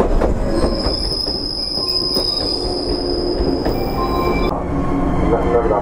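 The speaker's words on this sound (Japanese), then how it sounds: "東舞鶴方面からやってきた列車、これなんですよね。" JR West train pulling into a station on the line from Higashi-Maizuru toward Fukuchiyama, with loud, close rumbling wheels and a sustained high-pitched wheel squeal that cuts off near the end, under a continuous rail roar.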